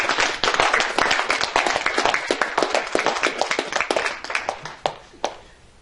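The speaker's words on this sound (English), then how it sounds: "I hope you will join me in giving Ann a wonderful round of applause for her contribution to us" A small audience claps at the end of a talk, a dense, close burst of hand claps that thins out into a few scattered final claps and fades.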